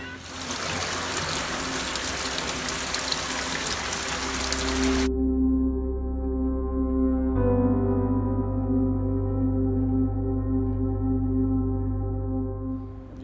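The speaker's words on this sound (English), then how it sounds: "It's flooding." Heavy rain and rushing floodwater give a loud, steady hiss for about five seconds. It then cuts off abruptly and gives way to sustained, droning tones.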